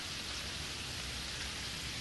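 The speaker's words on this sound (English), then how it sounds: "I'm just standing here waiting for the rain to go by" Rain falling in the video game Terraria, a steady, even hiss of downpour with no other sounds.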